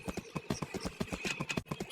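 Horse hooves gallop in a shooter video game, a quick steady clip-clop rhythm of close, crisp beats over a faint background tone.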